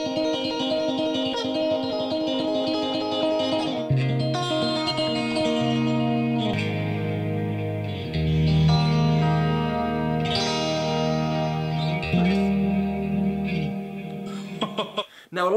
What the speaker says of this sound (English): a lot of that beautiful tone is coming from the amount of delay he's got. He's got pedals or amps with delay and reverb